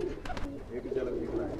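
Pigeons in a loft of champion racing birds, a yellow-ringed pigeon among them, give soft close cooing calls over a steady murmur of background noise.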